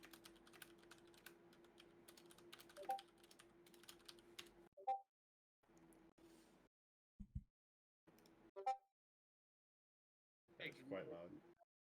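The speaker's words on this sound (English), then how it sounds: "I'm sorry if you guys can hear us aggressively typing" Aggressive typing on a computer keyboard, a dense stream of rapid clicks running under an ongoing background drone for the first several seconds, then a few isolated bursts among quiet gaps, with brief talk.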